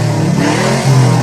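Cyclops's car in an X-Men cartoon revs up and accelerates, a short, loud engine roar whose pitch climbs in one close burst.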